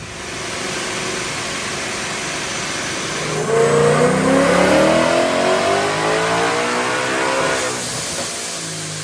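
Supercharged car with a 100 mm pulley revs hard during a pull, engine note climbing in a steady rising sweep from a lower idle, loud and close with no talking.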